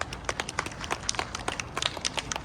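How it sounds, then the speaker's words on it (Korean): A church congregation claps hands together in a scattered, irregular burst that lasts a couple of seconds, with no talk over it. "이런 감사를 느끼는 분 박수 쳐주세요"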